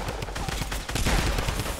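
Rapid gunfire in the Fortnite Battle Royale video game, a dense run of overlapping shots in close succession, loud and continuous for a couple of seconds.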